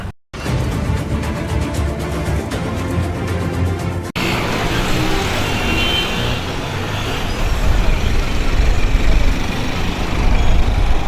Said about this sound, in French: Tenez l'image de la circulation sur l'axe Cotonou-Calavi. Difficile de se frayer un passage, l'embouteillage dicte sa loi.